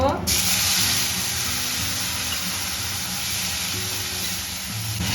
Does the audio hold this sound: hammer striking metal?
no